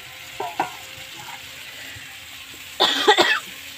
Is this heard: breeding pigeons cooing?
no